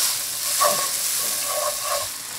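Hot pepper flakes stirred quickly in a very hot pan for a spicy seafood noodle soup give a dense, close sizzling hiss with a few scraping strokes of the utensil and no talking.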